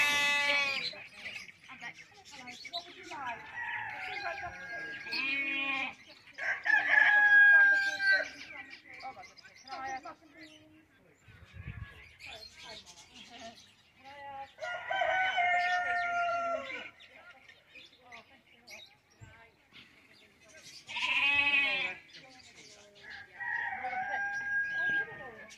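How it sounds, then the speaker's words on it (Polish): At a city farm in Nottingham, a rooster crows several times between clucks, bleats and other bird calls, moderately near, while someone talks intermittently over the farmyard sounds. "tu jest pełno ptaków"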